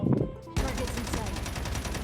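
In the Call of Duty Mobile video game, the UL gun fires a rapid, continuous burst of automatic shots after a brief quiet moment, loud and close, with a voice faintly underneath at the start.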